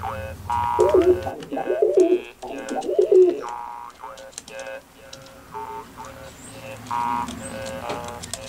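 Roller pigeons coo in a series of soft, repeated throaty calls close by, mixed with some clicking and light background noise.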